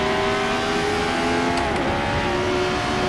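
High-revving engine of a 1973 Tyrrell 006 Formula One car racing at Zandvoort in Assetto Corsa, a loud, close, sustained whine with steady harmonic tones and a brief shift blip midway.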